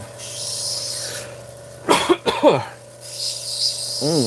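A short burst of coughing, two or three rough coughs close together, against a quiet background with a faint steady hum.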